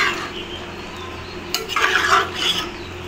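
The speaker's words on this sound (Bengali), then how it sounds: "এবারে মশলাটা এসবের সঙ্গে মিশিয়ে নিব।" Spice powder, dry-roasted in a pan, is stirred into low-oil raw jackfruit curry, with a steady spoon scrape against the pan that grows into louder, busier scraping bursts near the end.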